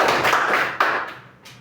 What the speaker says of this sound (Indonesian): Beri tepuk tangan untuk Arika.